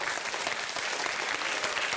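Sustained applause from a school audience at a cup-stacking competition, dense and steady throughout without pauses.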